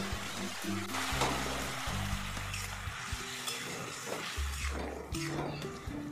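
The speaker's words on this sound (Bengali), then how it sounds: "এই অবস্থায় দিয়ে দিচ্ছি সেদ্ধ করে রাখা কচু, বেগুন, পই দিয়ে ভালো করে একবার এভাবে নেড়ে নিচ্ছি" Boiled taro, eggplant and Malabar spinach are stirred through hot oil in a pan, giving a steady close sizzle with repeated scraping strokes of the spoon throughout.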